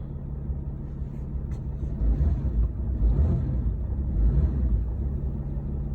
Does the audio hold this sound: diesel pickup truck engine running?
yes